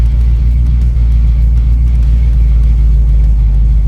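A DimePiece S10 pickup's engine with a mini spool runs loud and close on a test drive, a heavy, steady low rumble with a slight revving edge and no pauses.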